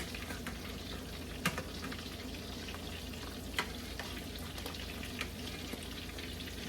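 Cheese appetizers fry in hot oil with a steady, fairly soft sizzling hiss, broken by a few sharp pops and crackles, heard close with no talking.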